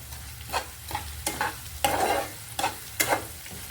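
Taro pieces frying in a pan for a Telugu curry give a soft steady sizzle, broken by several scraping stirs of a utensil at irregular intervals, with no talk.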